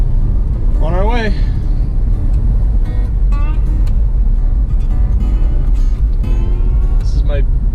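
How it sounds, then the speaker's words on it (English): Steady low road rumble inside a moving BMW i3 electric car, with a person talking over it throughout. "BMW i3 electric car"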